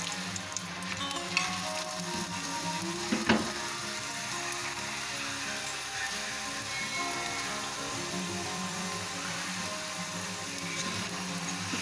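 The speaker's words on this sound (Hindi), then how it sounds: "दोनों साइडों से अच्छा पका लें गोल्डन होने तक।" A paratha frying in a hot pan until golden on both sides gives a steady, close sizzle that runs unbroken throughout, with a brief clatter of handling near the start and no voices.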